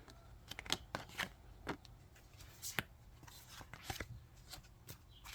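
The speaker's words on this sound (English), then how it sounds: "And I'm just going to shuffle behind the camera, guys." Tarot cards are shuffled by hand out of view, a series of soft irregular riffles and taps, quiet and close, with brief pauses between bursts and no talk.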